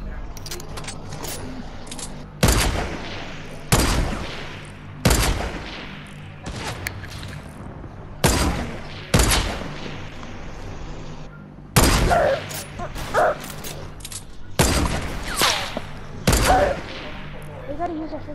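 Sniper rifle shots in a video game duel ring out one at a time, about eight sharp loud cracks spaced a second or more apart, each with a short decaying tail, over a quiet background with faint voices.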